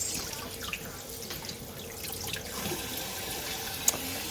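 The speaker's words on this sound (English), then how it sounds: "And give it another rinse." Salad greens are rinsed under a running kitchen tap, a steady splashing water stream with small drips and a faint clink, close by and without speech.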